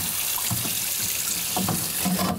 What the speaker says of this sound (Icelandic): hérna er ég með heilan humar og setjum á hann bara svona volgt vatn